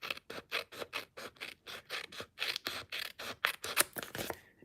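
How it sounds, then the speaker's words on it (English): Paper snips trim paper around a corner with a quick, steady run of crisp cutting snips, close and quiet, about twenty in a row with no talking. "I'm going to take my paper snips."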